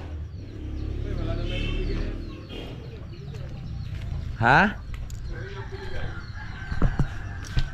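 A wild junglefowl (labuyo) clucks and lets out a short rising crow close by, mixed into steady background noise while people talk around it.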